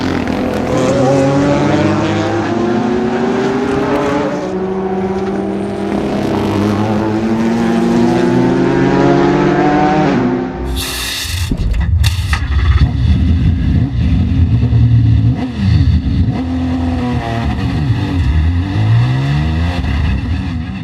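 A 2016 Ford GT race car at Le Mans revs loud and close, its engine climbing through repeated rising gear pulls. A sharp burst and a shift follow, and then the car accelerates again with a throbbing, wavering roar.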